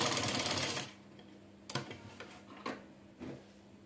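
A sewing machine stitches a folded hem on a petticoat, giving a brief burst of running stitches, then a few isolated clicks and taps from the machine.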